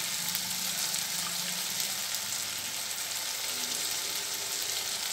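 Tomatoes, chilli powder and turmeric sauté in a pan for carrot rice, a steady soft sizzle and hiss close by, even and continuous with no talk.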